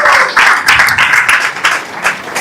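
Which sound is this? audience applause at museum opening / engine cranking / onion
audience applause at museum opening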